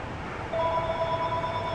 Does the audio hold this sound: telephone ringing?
yes